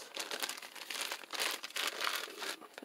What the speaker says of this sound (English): Let's take these plastic bags.